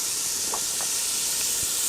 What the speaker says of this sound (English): steak is almost done basically, so I can put the onion in